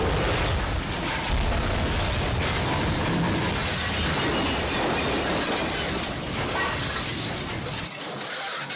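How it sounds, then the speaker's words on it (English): A loud, sustained crash and grinding roar from a 2014 freight train collision near Hoxie, continuous dense noise for nearly nine seconds before dropping slightly at the end. "The town wakes up to a crashing sound"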